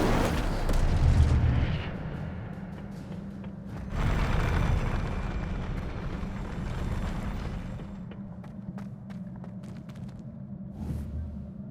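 In Hogwarts Legacy on PS5, the Incendio fire spell bursts as a loud rumbling explosion. A heavy first boom is followed by a second roaring surge a few seconds later, and both fade into a long, dying rumble.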